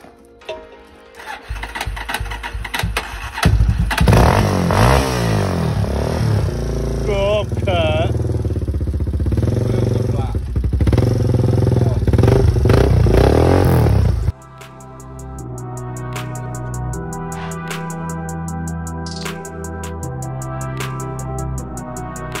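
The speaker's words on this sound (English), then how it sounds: "Oh, look, Kurt's firing it up." A pit bike engine fires up on a dirt track in Spain, roaring and revving loudly and close for most of the stretch, then settling into a steadier, quieter idle with rough harmonics; voices talk over the start.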